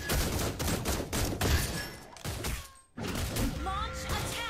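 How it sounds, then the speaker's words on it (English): Rapid automatic gunfire from a video game rattles in dense bursts with a short pause, mixed with game effects. "Behold. My crescendo of bullets!"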